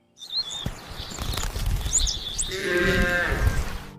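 An old shepherd's flock of sheep bleats nearby on a dry farm field, several overlapping wavering calls growing louder toward the end over a steady outdoor rumble, with faint bird chirps.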